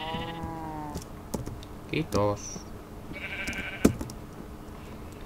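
A Minecraft sheep gives a few short, wavering bleats amid soft game clicks and effects, while a player speaks quietly in Finnish over it.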